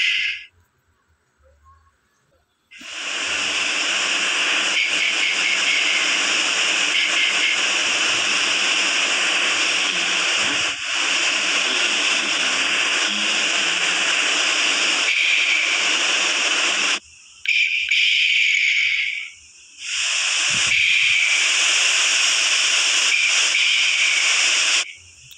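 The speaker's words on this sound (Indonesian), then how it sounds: "Suara putih itu ternyata kayak background suaranya gitu ya." Steady broadband white noise from a baby sleep device hisses loudly and continuously for most of the stretch, breaking off briefly twice near the end, with a quiet start and no voices.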